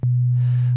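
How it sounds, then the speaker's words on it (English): A pure, steady low sine tone from the Native Instruments Massive synthesizer holds at constant loudness, with faint upper harmonics appearing in the second half. "have our sine wave here"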